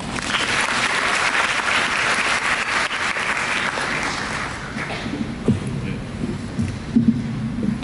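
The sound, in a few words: audience applause welcoming the speaker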